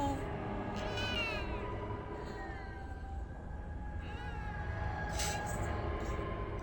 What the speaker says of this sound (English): That cat is fucking adorable.